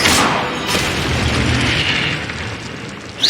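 Incendio fire spell cast in the Hogwarts Legacy video game: a loud, sustained burst of roaring fire and explosive booms filling the whole stretch, easing slightly before a sharp final crack.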